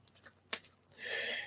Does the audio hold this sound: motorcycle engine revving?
no